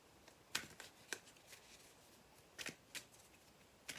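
A deck of cards is shuffled, with several crisp riffling bursts spread over a few seconds, quiet and close against a hushed room.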